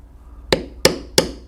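A mallet taps a leather carving tool while beveling a carved bear head in leather, giving four crisp, close knocks at a steady, slightly uneven pace over a faint background hiss.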